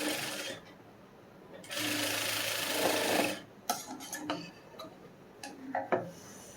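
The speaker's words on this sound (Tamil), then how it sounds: "கொஞ்ச நேரம் தைச்சிட்டு இருந்தேன்." A sewing machine stitching a lined blouse, with bursts of steady mechanical whirring broken by short pauses and clicks as the fabric is repositioned, fairly close and with no voices.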